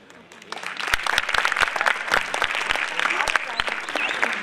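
An audience at a live performance breaks into applause, with scattered sharp claps building into steady clapping that carries on loud throughout.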